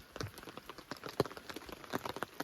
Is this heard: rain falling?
yes